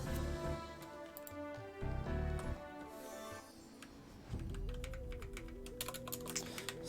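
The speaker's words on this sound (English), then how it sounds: "Started typing, apparently." Keyboard typing clatters along as scattered quick clicks over a steady bed of game music with sustained tones, the keys fairly faint and continuous throughout.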